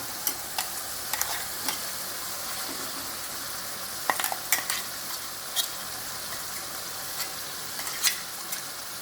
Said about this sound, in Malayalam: അരച്ചത് നമുക്ക് ഒഴിച്ചു കേട്ടോ